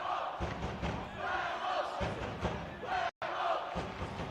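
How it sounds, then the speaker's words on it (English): A crowd at a European quidditch semifinal chants in rhythm with claps, loud and roomy, with a brief dropout near the end. "The crowd is chanting, "Werewolves, da-da, clap. Werewolves, clap, clap, clap.""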